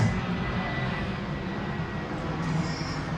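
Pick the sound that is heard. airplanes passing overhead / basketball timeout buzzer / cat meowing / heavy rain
airplanes passing overhead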